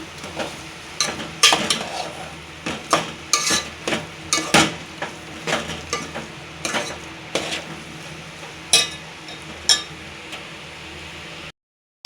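A spoon stirs and mixes a vegetable dish cooking in a pan on a clay stove, with repeated scraping clinks against the metal over a soft sizzle, loud and close with no talking.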